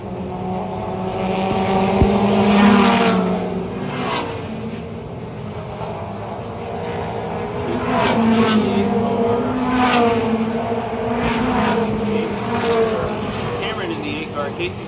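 Mini stock race cars at Tri Cities Raceway whine and rise and fall in pitch as they power through the left corner, a loud, continuous engine drone under steady commentary.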